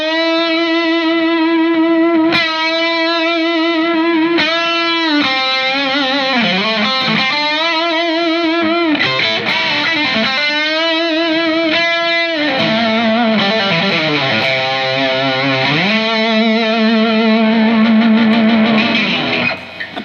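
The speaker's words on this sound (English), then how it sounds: "We're going to bend up, hold the note, and apply vibrato." Electric guitar played through distortion and effects, bending strings up and holding notes with steady vibrato; sustained wavering pitches ring loud and continuous for twenty seconds with no talking.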